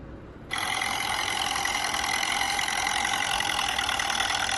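Mahindra Arjun 555 tractor engine hauling a heavy double-axle trailer load, a steady loud mechanical drone that starts abruptly after a brief quieter moment and holds evenly throughout.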